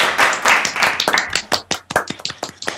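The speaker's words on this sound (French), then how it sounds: "je vous applaudis." Hands clap loudly and close, a dense burst at first that thins into scattered sharp individual claps with gaps between them.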